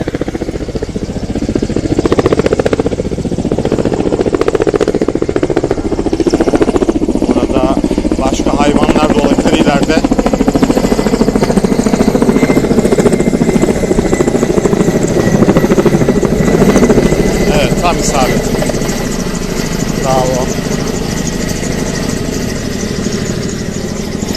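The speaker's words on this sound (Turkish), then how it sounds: "Yangın helikopteri de geldi." A loud, steady firefighting helicopter rotor and engine roar fills the air continuously over a forest fire, with people talking underneath.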